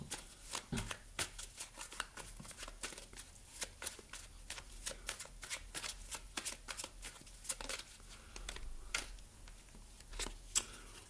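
Tarot cards shuffled and handled close by, a steady run of soft riffling flicks and sharp card snaps with a few quiet pauses.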